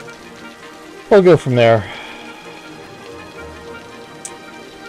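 Steady game rain in the city-building game Cities: Skylines, a soft continuous hiss running through the whole stretch beneath a brief spoken phrase.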